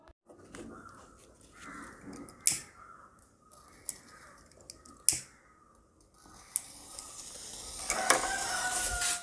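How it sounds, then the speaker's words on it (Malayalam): A small sample of matchstick-head powder mixed with colored smoke dye is lit. A few sharp clicks and faint scratches come first, then a rushing, hissing burn flares up near the end. "ഇനി നമുക്ക് ഇതിൻ്റെ ഒരു ചെറിയൊരു സാമ്പിൾ എടുത്തിട്ട് ഇത് കത്തിച്ച് നോക്കാം."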